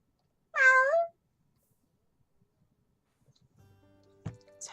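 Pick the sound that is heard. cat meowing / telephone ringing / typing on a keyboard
cat meowing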